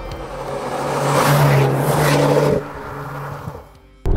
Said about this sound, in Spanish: notas que el motor pues se va cada vez revolucionando más y más y más